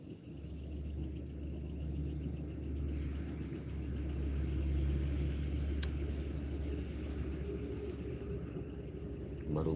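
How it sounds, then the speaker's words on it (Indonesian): A car crossing a bridge over the Cilutung river, heard as a long low rumble rising and falling in level, with a steady hiss and faint insect-like chirps behind it and no speech. "cuman ada suara itu aja tuh, mobil lewat tuh di jembatan Cilutung."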